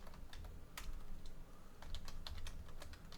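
Keys clatter in a quick, irregular burst of typing on a computer keyboard, close but faint, with no voices.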